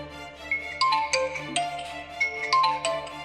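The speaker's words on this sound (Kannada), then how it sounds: "ಇದ್ಯಾರು ಇಷ್ಟೊತ್ತಿಗೆ ಫೋನ್ ಮಾಡಿದ್ದು?" A mobile phone's melodic ringtone plays on in a steady, repeating tune with no talk over it, in a dramatic Kannada short film scene.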